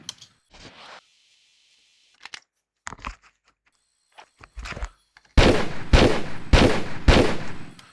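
Rapid bursts of MP5 gunfire in the Tomb Raider III beta video game, four loud sharp volleys in quick succession near the end after scattered quieter game clicks and thuds.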